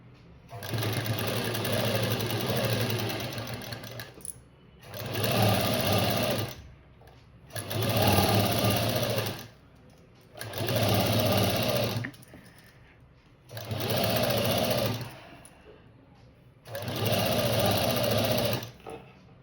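A sewing machine stitches along the edge of a blouse cut from a sari border, running in six bursts of a few seconds each, separated by short pauses. The whirring is steady and close, with no talk over it.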